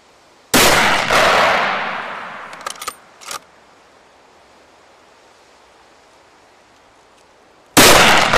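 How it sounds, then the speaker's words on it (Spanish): Blaser hunting rifle fires at a target 200 metres away: one loud, sharp shot with a long rolling tail, a few faint clicks and knocks as the action works, then a second loud report at the end. "antes de disparar una agrupación en una distancia de 200 metros con esta arma"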